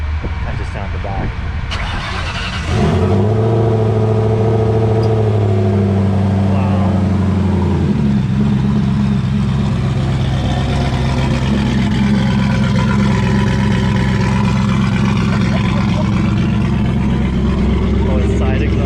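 A Mercury Marauder with side exhaust, said to run on race fuel at a small-town car show, cranks and fires into a loud, deep idle, then revs and rumbles steadily close by while people talk over it.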